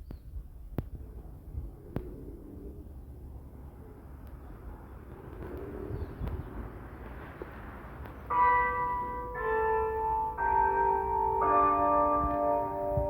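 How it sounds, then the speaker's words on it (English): The clock bell of St. George Parish Church in Barbados chiming outdoors, a sequence of clear, resonant tolls ringing over a low ambient rumble of wind and distant traffic, with no one talking. "You hear the clock alarming again, the bell."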